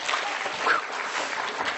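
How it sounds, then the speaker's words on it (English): Keynote audience breaks into steady applause, a dense wash of many hands clapping at even volume for the whole short stretch, with little talk. "Give her one big clap, folks."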